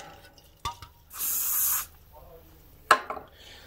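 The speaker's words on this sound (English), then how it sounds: "Can't beat a bit of lube." Spray lubricant hisses from an aerosol can in one close burst of just under a second during electrical work, with soft handling knocks and clicks before and after.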